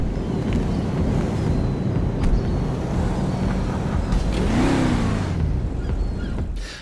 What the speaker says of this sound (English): Okay, so off we go. The Enus Jubilee